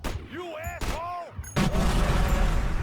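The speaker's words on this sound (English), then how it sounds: "You don't get a lot of explosion kills in this game." An explosion in the video game Manhunt, a loud broadband boom at about a second and a half, followed by a sustained rumbling roar. Wailing tonal game sounds come just before it.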